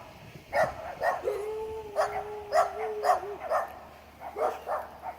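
Puppies behind a fence on a steep residential hill bark in short, sharp bursts, a few in quick succession, with a thin whine drawn out between them, fairly close.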